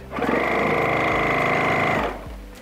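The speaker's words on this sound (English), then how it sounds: "You don't want to fight your sewing machine." Domestic sewing machine stitching fabric for a face mask with ties, a steady fast motor whir with rapid needle chatter running about two seconds before stopping, close and clear, no talking.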